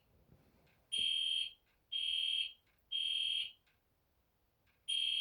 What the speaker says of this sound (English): also have sensitive ears when it comes to loud noises like the fire alarm